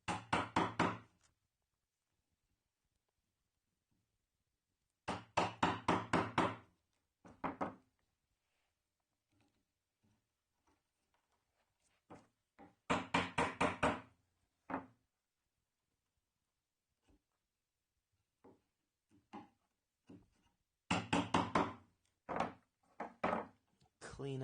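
A chisel cuts a trench in wood with repeated sharp knocks, arriving in several quick bursts of close, rapid strikes separated by quiet pauses and a few softer taps.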